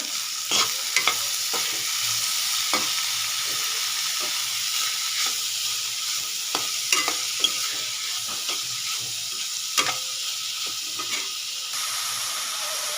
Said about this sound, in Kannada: ಇವಾಗ ಇದಕ್ಕೆ ಬೇಯಿಸಿದ್ದ ಕಾಳು ಹಾಕೊಳ್ಳೋಣ ಇವಾಗ ಇದನ್ನ ಮಿಕ್ಸ್ ಮಾಡ್ಕೊಳ್ಳೋಣ